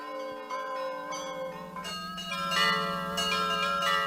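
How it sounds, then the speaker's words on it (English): Church bells chime joyously as a religious procession passes an Orthodox church near Moscow, several bells ringing in overlapping tolls that swell louder and denser toward the end, with no voices. "Every church the religious procession passed by met it with joyous bell"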